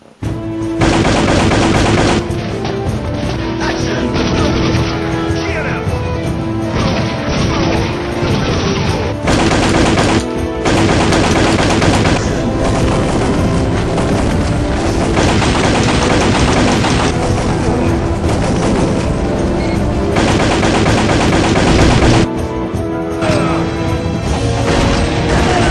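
Rapid gunfire from the Time Crisis light-gun arcade game fills the room in long, loud, dense bursts of machine-gun shots with crashes, pausing briefly now and then before resuming.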